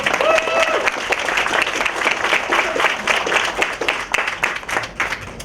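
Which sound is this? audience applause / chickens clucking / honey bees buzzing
audience applause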